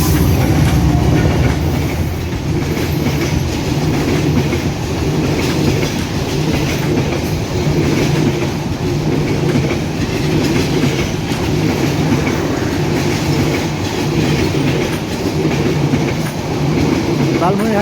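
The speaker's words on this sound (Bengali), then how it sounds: "লালমনি এক্সপ্রেস মূলত একটি মিটার গেজ ট্রেন, অত্যন্ত দ্রুতগতি সম্পন্ন এই ট্রেনটি এই মুহূর্তে প্রবেশ করছে লালমনি এক্সপ্রেস" The Lalmoni Express, a fast meter gauge intercity train hauled by a 3023 series locomotive, runs into Raninagar railway station with a loud, steady roar and rhythmic rattle of wagons passing close by throughout.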